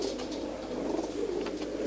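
A pigeon hen coos softly and steadily in a low, continuous murmur, moderately close, with faint flutters and light background hiss.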